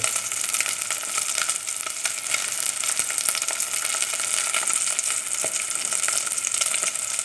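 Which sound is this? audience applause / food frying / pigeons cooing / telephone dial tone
food frying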